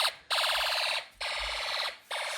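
Loud pulsing fire alarm horn during a fire and smoke alarm system test, three long harsh blasts separated by short gaps, close by with no voices.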